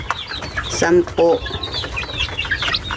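Young rooster (stag) and chicks kept on a backyard farm, clucking and peeping close by in short bursts, with two louder calls near the middle, while a man counts the birds aloud over them.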